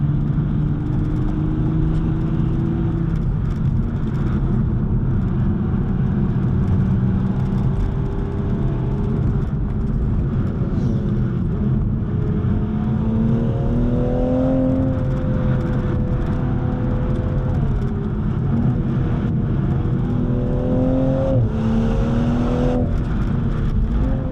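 A 2021 Toyota GR Supra 3.0 drives a winding road, its engine droning loud and constant from inside the cabin, pitch rising and falling with gear and throttle changes amid road rumble.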